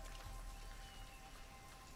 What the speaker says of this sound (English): This rain's not natural.